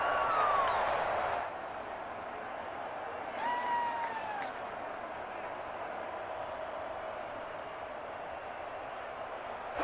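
A stadium crowd in the Madden NFL 21 video game roars and cheers as a big third down approaches, a broad sustained crowd wash that swells, then settles into steady background noise, with whistle-like tones.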